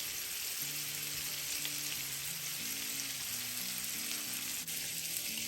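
Pieces of bitter gourd fry with turmeric powder and salt over a medium flame, making a continuous dense sizzle at a low, even level with no voices.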